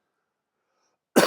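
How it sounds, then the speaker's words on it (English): A single sharp cough bursts out at the very end after near silence, loud and close, from a speaker during a lecture. "sorry if I'm a little bit coughing"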